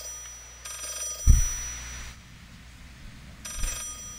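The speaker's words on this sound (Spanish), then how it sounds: "¿Será el teléfono?" A telephone rings in the horror video game Layers of Fear, with short faint rings spaced apart over a quiet, eerie ambience and a couple of dull thumps.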